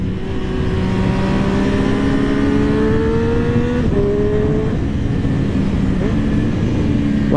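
Sport-bike engine on a motorcycle ridden in rain mode, revving steadily with rising harmonic pitch, a brief drop near four seconds and then climbing again, loud and close throughout with no talk.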